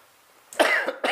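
A short burst of coughing, two or three harsh coughs close to the mic, with no talking.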